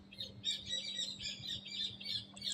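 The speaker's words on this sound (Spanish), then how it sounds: "¿Escuchan los pajaritos?" Small birds chirping outdoors, a rapid run of high, thin tweets and squawks coming in short bursts at moderate distance over a faint steady hum.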